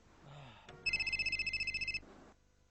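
A telephone rings with one rapid electronic trilling burst of about a second, clear and fairly close, preceded by a soft bump and followed by quiet room tone.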